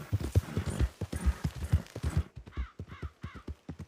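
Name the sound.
Shire horse hooves clip-clopping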